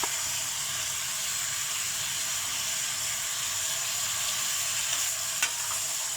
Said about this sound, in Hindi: इन सबको अच्छे से भूनना है कि मसाला अच्छे से भून जाए गोश्त के साथ